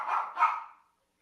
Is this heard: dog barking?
yes